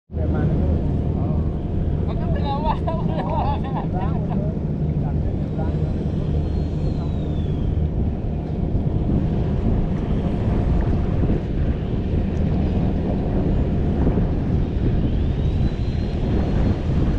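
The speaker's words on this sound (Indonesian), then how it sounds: "angin musim layangan biasanya agak kencang anginnya hari ini." Strong coastal wind at Benoa, Bali during kite season, a steady broadband roar buffeting the microphone for the whole stretch, loud and constant, with a few voices talking underneath.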